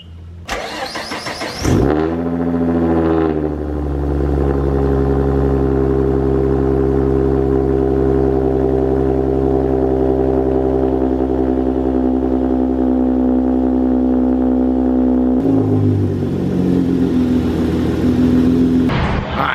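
A car engine cold-starts with a sharp crank burst, settles into a loud, steady high idle for over ten seconds, then blips into a brief rev near the end, close up with no voices.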